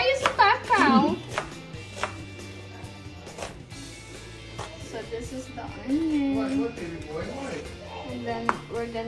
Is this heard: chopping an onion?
yes